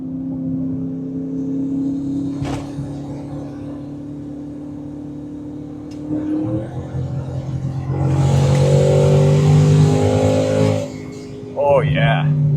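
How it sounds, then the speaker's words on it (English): Twin-turbo Ford F-150 Raptor engine swap making about 800 wheel horsepower in a daily-driven truck. A steady engine drone builds into a loud surging rush with a hissing whoosh, followed by a rising whine and another surge near the end, with faint voices underneath. "I would prefer a little bit more turbo noise, but it's not bad."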